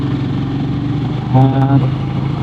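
A motorcycle suffering from a power-loss fault on a long highway ride hums with a low, steady engine drone, briefly rising in a short surge of revs, while a rider speaks over it.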